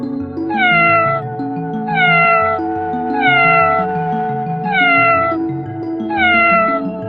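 A cat meows five times in a steady rhythm, each call a clear, drawn-out falling wail, loud and close, over a background of soft musical tones.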